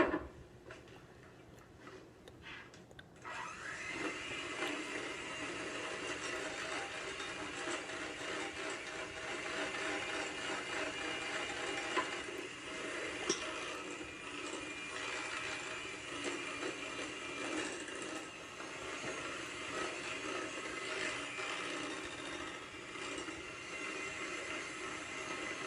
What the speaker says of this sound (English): we're just going to mix this till it's really nice and creamy and frothy